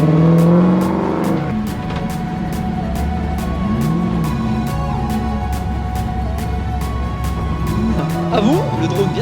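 Drift cars at a Bordeaux Mérignac drift event scream around the track with engines revving loudly and tires squealing in long wavering whines, a steady close roar throughout with rising pitch sweeps near the end.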